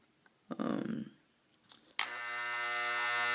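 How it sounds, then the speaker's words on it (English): An Andis hair trimmer switches on after a few soft handling clicks and settles into a steady, loud electric buzz with a strong tonal hum, close up. "Turn it on."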